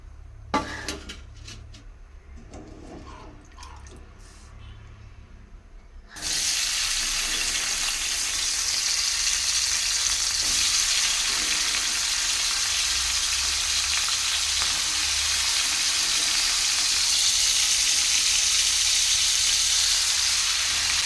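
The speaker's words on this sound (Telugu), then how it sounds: "బంగాళదుంప ఫ్రై చేస్తున్నాను" Small chopped potato pieces frying in a home kitchen pan, a loud, dense, steady sizzle that bursts in after a few seconds of quieter clinking and stays constant to the end.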